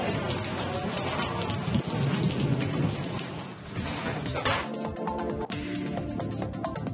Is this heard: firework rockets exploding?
no